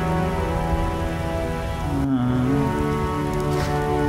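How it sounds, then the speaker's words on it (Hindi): Steady rain falls in The Witcher video game, a dense continuous hiss over a low droning game ambience, with a brief tonal shift midway. "बारिश हो रही है"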